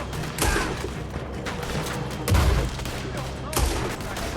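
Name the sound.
gunfight gunfire in video game Red Dead Redemption 2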